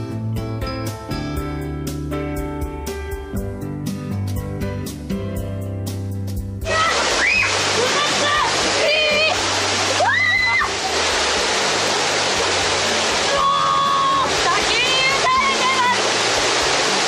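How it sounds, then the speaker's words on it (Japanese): Music plays at first, then a loud, steady rush of a waterfall takes over and continues to the end, with a voice speaking over the roar. "すごい、滝なんて初かもしれないですってくらいですよ。"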